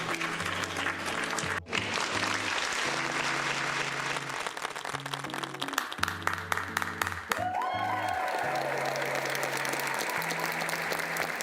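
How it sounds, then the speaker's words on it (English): Applause rolls on steadily, a dense, continuous clapping texture over several seconds, with low tonal sounds and a brief chime partway through. "Claps for everyone."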